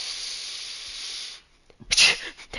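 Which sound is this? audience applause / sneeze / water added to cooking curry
sneeze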